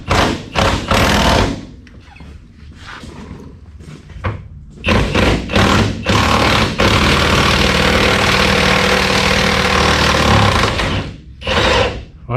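Rusty cab mount bolts being worked loose on a square body truck during cab removal, with loud repeated mechanical hammering and rattling bursts separated by short pauses.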